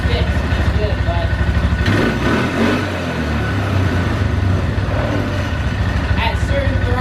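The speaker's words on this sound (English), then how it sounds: "you can see it's sitting here and it's idling good, right? You can rev it up, and it'll still run good." A 2012 Polaris Sportsman 400 HO ATV, one that tends to bog down and die, idles with a steady throbbing putter up close and rises briefly with a throttle rev before settling back to idle.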